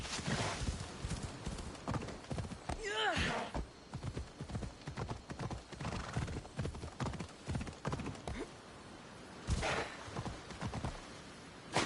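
Phobos the horse in Assassin's Creed Odyssey galloping, rapid close hoof clip-clops in rhythmic bursts with a loud whinny early on and another near the end, occasional speech in between.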